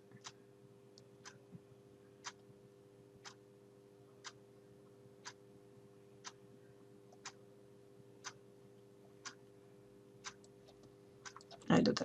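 Computer mouse clicks tick out at a steady one-per-second rhythm, sharp and isolated over a low hum, while working in Illustrator with the pen tool, ending with a brief louder rustle.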